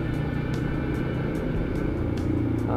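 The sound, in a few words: heavy road traffic heard from a motorcycle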